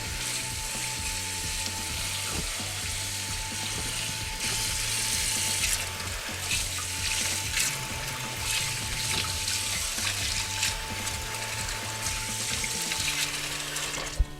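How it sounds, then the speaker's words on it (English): Steady rush of cold running water from a tap over soup bones being washed, with light clattering and splashing, continuous throughout, no voices. "Wash it using cold water."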